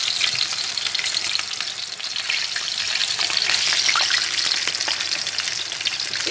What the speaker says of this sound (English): right now we are frying it